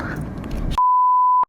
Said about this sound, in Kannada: ಈ ಥರ ಬೀಪ್ ಲ್ಯಾಂಗ್ವೇಜ್ ಬಳಸ್ತೀಯ